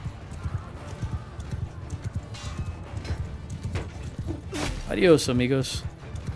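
Horse hooves clip-clop at a gallop in Mount & Blade II Bannerlord, a steady rapid beat running throughout, with a short spoken line from a voice near the end.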